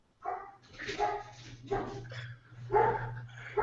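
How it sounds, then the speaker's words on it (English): A dog barks a few times in the background, with short yips and barks heard at a moderate distance under quiet room tone. "He's got a dog in the background."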